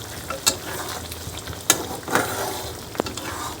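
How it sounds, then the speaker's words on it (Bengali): Pigeon meat sautéing in a pan makes a close, steady low sizzle, broken by several sharp scrapes and clacks of a spatula stirring at irregular moments, with no talking. "হ্যাঁ বন্ধুগণ, কষানো হচ্ছে, কষানো প্রায় শেষের দিকে"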